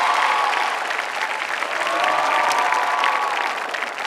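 Audience applause at a televised talent show fills the space, a dense, loud, continuous clapping from a large crowd that holds steady throughout.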